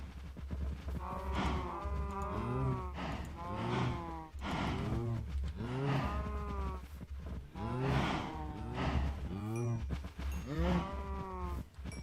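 Cattle lowing in Minecraft, a series of deep, drawn-out moos repeating every couple of seconds, loud and close, overlapping one another over a steady low hum.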